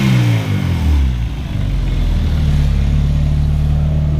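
A Honda K20 engine swapped into an EG Civic idles loud and close, a steady deep rumble after a brief start-up surge, running evenly throughout with no talk.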